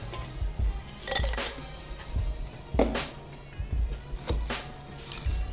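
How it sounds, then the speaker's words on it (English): Ice cubes are tossed into a cocktail glass during preparation of a Paul Masson mule, giving repeated sharp clinks and clatters in irregular bursts over steady background noise. "Throw some ice in our glass."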